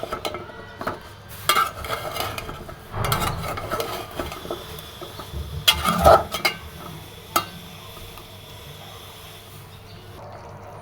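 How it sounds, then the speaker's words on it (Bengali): A spoon scrapes and clatters in a pan of shing fish curry simmering with papaya and green banana, with irregular stirring strokes, some louder knocks and a faint sizzle beneath. No voices are heard. "এখন নাড়াচাড়া দিব।"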